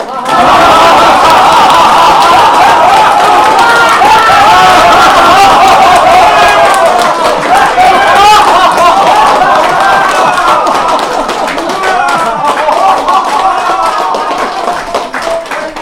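Audience at a health lecture clapping vigorously while laughing out loud, a long, loud sustained burst of many hands and mixed laughter and chatter that fades slightly toward the end.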